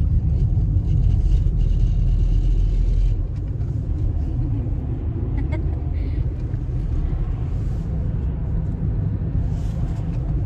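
Inside a car driving on a road, a steady low engine and road rumble fills the cabin throughout, with slight shifts in tone, and a voice speaks faintly over it.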